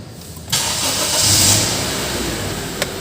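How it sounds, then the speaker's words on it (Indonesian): A Honda Brio's engine fires after a quiet moment and settles into a steady, close running drone with a low rumble and airy hiss, one small click near the end. "kita perlu untuk menghidupkan mesinnya terlebih dahulu. Sudah hidup ya"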